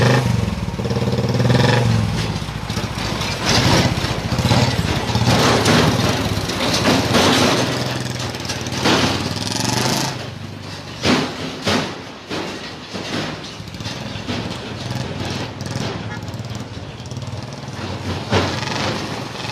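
A Royal Enfield Bullet motorcycle engine runs and revs, a loud throbbing thump that rises and falls, with some mechanical clatter and a brief quieter dip partway through.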